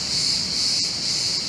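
Cicadas on the Dilek Peninsula in Turkey shrill loudly and steadily, a dense continuous buzz that stays at full strength from start to end, close and unbroken, with no voices.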